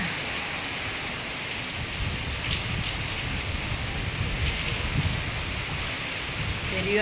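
Heavy rain falls in Chennai with strong wind, a constant close hiss of drops pelting surfaces with a low rumbling undertone that holds steady from start to finish.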